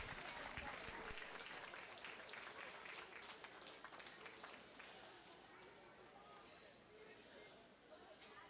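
An audience applauds the goat exhibitors at a 2025 Gillespie County youth livestock show, a faint, distant, steady patter of clapping that tapers slowly.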